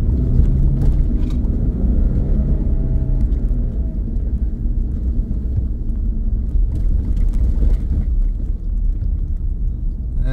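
A 2023 Nissan Frontier on Mickey Thompson Baja Boss tires revs hard on an unplowed snowy road, a loud, steady engine roar with rumbling wheelspin sustained for about ten seconds, with no talking.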